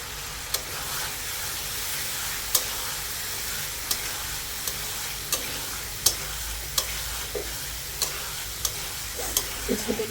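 Spiced fish sizzles steadily in a pan under a constant frying hiss, with light utensil taps and stirring clicks at irregular intervals.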